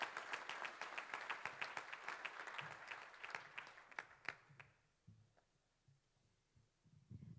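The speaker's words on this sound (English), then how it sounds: "Give a round of applause for that." Applause from a crowd at a community dance event honoring a couple, with dense clapping for about four seconds that thins to a few scattered claps before fading to quiet room noise.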